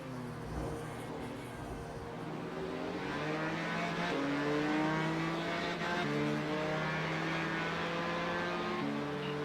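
A Ferrari race car in a sim racing game, its engine revving up through gears with repeated stepped shifts, loud and continuous with no talk.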